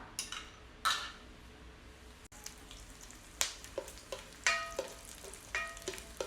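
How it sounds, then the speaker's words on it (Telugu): Green chillies and two garlic cloves fry in oil over a medium flame, giving a close, crackling sizzle with repeated sharp spatter bursts and occasional stirring clinks. "5 to 6 చిల్లీస్ తీసుకుని మీడియం సైజ్వి 2 గార్లిక్ తీసుకుని ఫ్రై చేసుకోవాలి"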